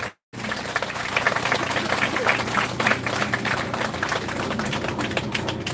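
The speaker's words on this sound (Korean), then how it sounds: "여러분 동의하시면 박수 한번 쳐보십시오" An audience at a Unification Church peace prayer meeting in Seoul breaks into steady, crowded applause after a brief silent gap, with a few murmuring voices in the hall.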